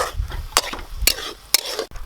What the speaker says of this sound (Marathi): मस्तपैकी असं हलवून घेऊया.